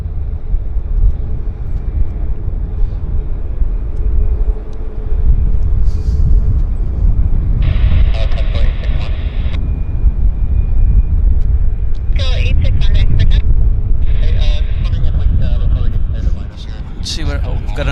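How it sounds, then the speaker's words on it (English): A jet airliner taking off at Vancouver airport, a steady low rumble of engine roar that holds throughout, with brief higher rushing bursts on top. "see what we've got another takeoff there"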